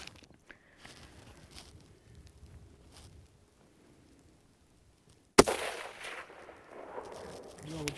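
A single rifle shot fired while hunting, one loud sharp crack late in the clip after a long quiet stretch of outdoor breeze and soft rustling, followed by lingering noise and voices.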